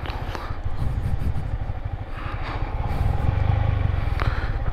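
A motorcycle rolls down the steep slope at Boga Lake in Bandarban with its brakes held and a weak clutch plate. Its low, steady engine rumble runs throughout, with light clatter and rattling over the rough descent.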